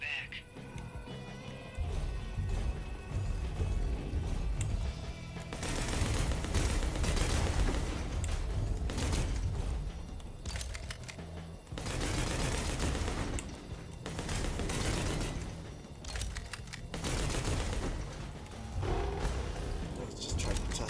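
Rapid enemy gunfire in the mech combat game Bounty Star, bursts of loud shots and crashing impacts coming in waves over about twenty seconds, with someone talking over parts of it.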